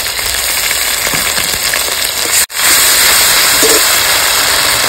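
Whole cumin, onion paste and ginger-garlic paste frying in hot oil in a village kitchen: a loud, steady hiss and sizzle fills the clip, broken by a brief cut to silence midway.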